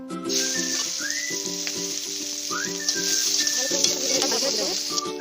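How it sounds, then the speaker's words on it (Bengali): Bay leaf, dried red chilli, panch phoron and mustard seeds temper in hot mustard oil with a steady, close sizzle and crackle, while faint tonal whistling sounds in the background. "তেল ফোড়ন দিয়ে দেবো সাইডে তেজপাতা শুকনো লঙ্কা পাঁচ ফোড়ন আর সর্ষে"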